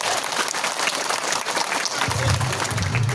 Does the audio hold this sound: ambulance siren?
no